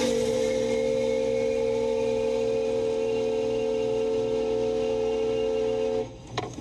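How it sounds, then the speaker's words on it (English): A loud, steady Stanley Steamer steam car horn blowing one long sustained train-like whistle tone for about six seconds before stopping abruptly. "That's a train horn."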